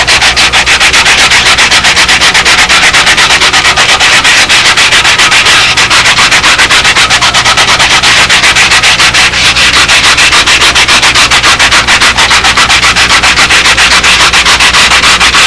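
Sticky-back sandpaper on a styrofoam block rubs back and forth against wood while smoothing the inside of a block, a loud, continuous, rhythmic scratchy sanding with no pauses.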